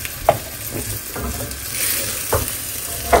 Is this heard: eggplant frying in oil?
yes